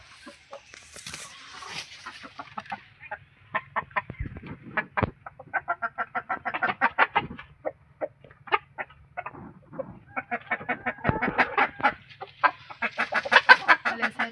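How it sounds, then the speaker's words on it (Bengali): Chickens shut inside a shed cluck and squawk as they are being caught, bursts of agitated, rapid clucking that rise and fall, growing louder and busier toward the end. "মুরগিগুলো দেখো কিরকম আছে এই ঘরের ভিতরেই আছে মুরগিগুলো দেখে নাও আমি এবার ধরবো"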